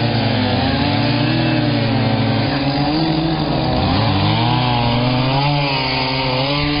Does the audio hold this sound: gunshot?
no